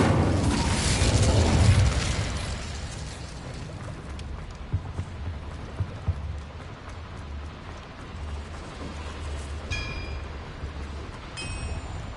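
Incendio fire spell cast in Hogwarts Legacy: a loud whooshing burst of flame at the start, then a low rumbling, crackling fire bed that carries on steadily, with a few faint chimes near the end.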